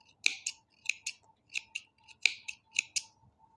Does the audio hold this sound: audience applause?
no